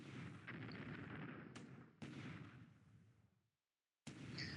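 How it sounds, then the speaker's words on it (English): Coastal gun battery fire in a naval war game sounds as a series of heavy booming blasts, each rolling and fading into a long rumble, one cut off by sudden silence before another strikes, with no talking. "so the coastal guns are firing back at the transports"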